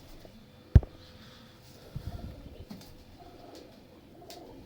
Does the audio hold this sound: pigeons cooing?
yes